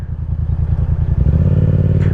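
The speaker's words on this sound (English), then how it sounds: "this is what a Subaru sounds like, and I think it honestly sounds great" Subaru boxer engine revving, a loud, close, throbbing low-pitched burble that rises as the revs climb, with no voices over it.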